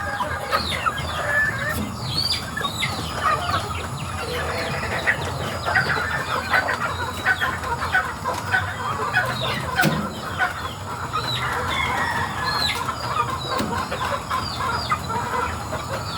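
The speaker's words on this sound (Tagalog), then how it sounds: "Ayan, ang cute na mga siki na to." Free-range native chickens and chicks cluck and peep in a busy farmyard, with overlapping soft clucks, chick chirps, occasional louder calls and a distant rooster crow at moderate volume.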